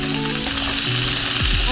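Onions and sliced garlic fry in a pan for a Filipino beef caldereta, producing a loud, dense, unbroken sizzle close up with faint stirring underneath.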